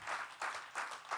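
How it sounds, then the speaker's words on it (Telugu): An audience at a staff awards night gives a round of applause, steady broadband clapping from a crowd that pulses in loose waves and fills the room without any voices. "can we have a big round of applause for them?"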